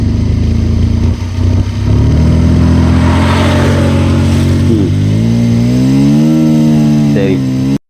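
Bajaj Pulsar 150 BS6 motorcycle with a poor throttle-response complaint, its engine idling loudly up close, then revving up in a rising, wavering climb before cutting off abruptly.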